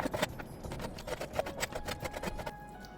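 Knife repeatedly cutting washed, drained mutton intestines in a village kitchen, a steady run of close, soft wet chopping strikes with no talk.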